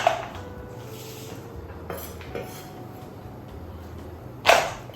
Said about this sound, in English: Let's get our chocolate into the bowl.